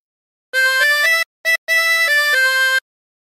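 A 20-hole tremolo harmonica plays a short phrase of the Battle Hymn of the Republic, bright reedy notes changing in steps with a brief gap between phrases, heard solo and up close.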